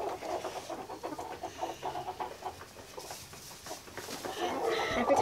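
Chickens, including Americanas, cluck in a coop with soft, scattered calls of moderate loudness over a busy background, with no clear talk.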